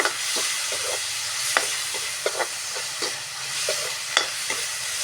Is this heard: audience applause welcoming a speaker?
no